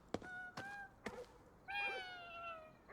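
A cat meows in the Ghostwire Tokyo video game: three short, clear meows close together, then a longer drawn-out meow, all fairly quiet over a faint background.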